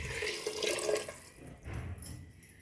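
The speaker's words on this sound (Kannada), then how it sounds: "ಇವಾಗ ನೀರನ್ನು ಹಾಕ್ಕೊಳ್ಳಿ." Water is poured from a glass into a pot of kuska rice cooking on low heat, a close splashing gush that rises, dips briefly, then swells again, heard alone.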